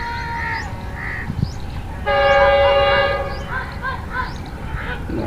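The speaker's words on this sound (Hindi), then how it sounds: "ग्रीन लाइन अभी यहाँ पहुँचने वाली है" A Pakistan Railways Green Line train arriving, its loud horn blaring for about a second over a rumbling rail background, with faint honks and station ambience around it.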